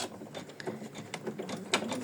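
A sewing machine stitches burlap with black thread for a decorative postcard, giving a quiet, fast mechanical clatter of needle strokes with small ticks and whirs.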